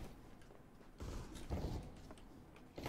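Wooden door creaking open inside a video game, a drawn-out groaning creak with a mechanical rattle, fairly close and clear with no talk over it.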